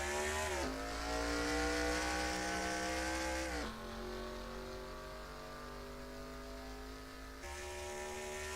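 Race cars pull away at the start of the Winston 500 at Darlington in a racing game, a loud pack of engines droning and rising in pitch through the gears, with two gear shifts dropping the tone.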